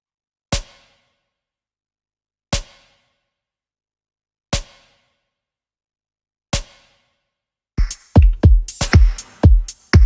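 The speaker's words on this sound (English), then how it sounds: "And that ghost snare sounds like this." Ghost snare in a beat: four soft, evenly spaced snare taps sound alone with silence between them, then a fuller, busier drum pattern kicks in near the end.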